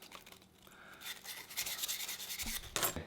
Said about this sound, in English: we're going to go ahead and sandpaper these up. You want to rough the brass up a little bit so the glue sticks to the acrylic